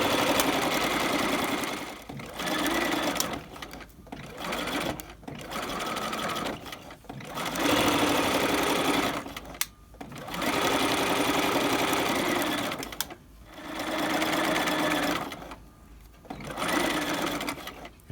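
A sewing machine stitches a raglan collar in several bursts of steady running, separated by short pauses, with a close, moderately loud motor whir and no talk.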